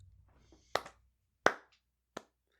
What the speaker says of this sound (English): Very well said. I'm clapping.